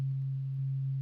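A synthesized chakra tuning fork tone in Ableton, a steady pure low sine hum held evenly throughout with a faint higher overtone, clean and sustained without a break.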